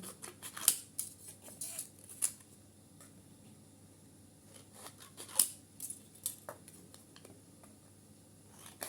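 Scissors cutting strips for plant labels by eye, a few sharp close snips spaced out over quiet room tone.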